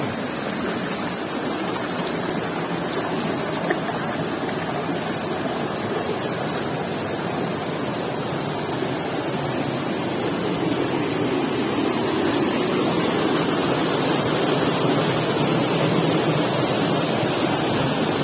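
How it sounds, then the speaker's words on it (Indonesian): A small waterfall in a riverside stream roars loudly and continuously, a dense, unbroken rush of falling water close to the microphone with no voices. "wah ada air terjun mini"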